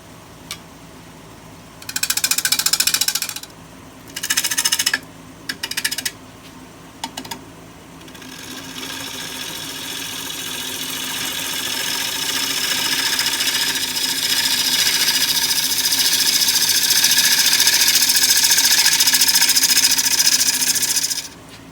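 Wood lathe turning a black walnut bowl at around 1,000 to 1,400 RPM: a hum with a few short bursts of cutting early on, then a long cut that grows steadily louder and holds near the end.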